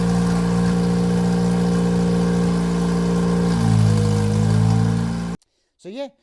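Mazda 1.8 engine running on its first start in a left-hand-drive RX-5 kit car with a Super Mad Max exhaust: a steady, close idle with a deep rumble that swells briefly as revs rise, then cuts off abruptly, followed by a short burst of other sound.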